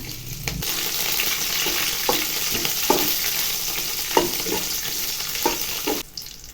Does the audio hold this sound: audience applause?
no